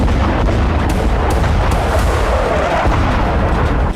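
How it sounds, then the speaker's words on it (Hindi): Continuous heavy rumbling with repeated booming blasts, like distant explosions and artillery, loud and dense throughout, as missiles are intercepted and destroyed over Tel Aviv. "तेल अवीव में जो 2 धमाके सुने गए"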